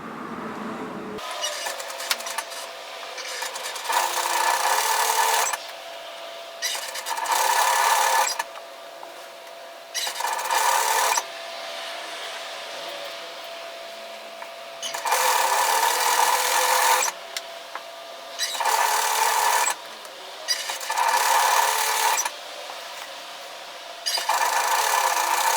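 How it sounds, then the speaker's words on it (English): Sewing machine binding the neck of a floaty top: bursts of steady mechanical whirring stitching alternate with short quiet pauses, close and clear, with no talking. "Now I'm going to bind the neck."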